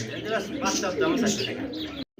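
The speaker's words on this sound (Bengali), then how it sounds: "আরও একটা গোল্লা কবুতর দেখতে পাচ্ছেন আর এটা যে এতটাই ছটফট" Pigeons at a bird sale coo close by in soft, rolling calls, mixed with a person talking over them.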